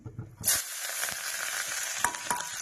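Chopped onion and green chili hit hot oil in a pan for a besan khandvi-style dish, a sharp burst of loud sizzling that settles into a steady, close frying hiss with a few clatters of stirring.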